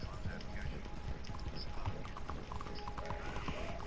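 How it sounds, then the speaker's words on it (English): Horse hooves clip-clop in the video game Red Dead Online, a steady trotting rhythm under background game ambience and players talking. "That's my damn horse."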